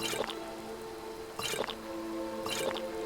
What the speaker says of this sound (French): on va essayer de remplir notre bouteille d'eau